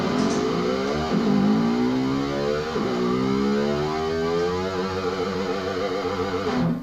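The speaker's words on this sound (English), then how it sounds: "we've got the reverse dive bomb, which is literally you push down the bar first" Electric guitar whammy bar reverse dive bombs: distorted notes pushed down then swooping back up in pitch, repeated sweeps that growl like a revving motorbike, loud and continuous.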